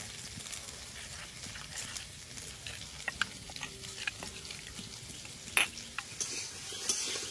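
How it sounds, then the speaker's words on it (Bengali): Potatoes fry in oil in a wok with a soft continuous sizzle, broken by repeated clicks and scrapes of a utensil stirring against the pan, several sharper knocks standing out near the end. "আলুটা ভাজা হয়েছে, এবার প্লেটে তুলে নেব।"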